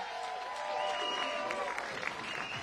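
A crowd applauds the men's singles gold medalist at the APP Sacramento Open pickleball final, steady clapping throughout with crowd murmur and some talk mixed in.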